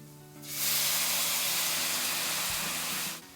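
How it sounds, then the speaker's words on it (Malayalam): A sudden loud, steady hiss of steam erupts as a quarter cup of water hits a hot pan of soya chunks, sustaining nearly three seconds, then cutting off. "അതിനുശേഷം ഇതിലേക്ക് 1/4 കപ്പ് വെള്ളമൊഴിക്കുക."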